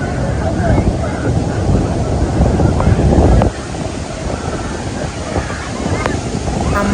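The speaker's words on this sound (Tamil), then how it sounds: "அவ்வளோ தண்ணி ஃபோர்ஸாக வந்து விழும்போது எப்படி இருந்தது தெரியுமாங்க பாருங்கள் நீங்களே" Niagara Falls roars close by, a dense, broadband crash of falling water mixed with wind buffeting the microphone. It eases slightly partway through but never stops.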